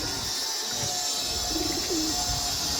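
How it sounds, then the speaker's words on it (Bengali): Pigeons coo in a few soft, low, rolling calls over a steady hiss of background noise. "এই দেখুন 3 পিস পায়রা আছে দেখুন"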